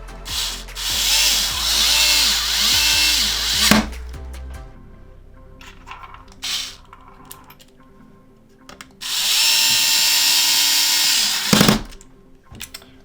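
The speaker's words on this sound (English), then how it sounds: "I'm gonna screw in these 2 connections for that front USB sync button" A power screwdriver drives screws into the front USB sync button connections inside an Xbox One X during a disc drive repair, in two separate whirring bursts with small clicks and handling noises between them.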